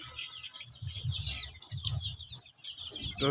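Several free-range Fayoumi chickens cluck in low, busy bursts, with a steady hiss of birds and ambient noise running beneath them.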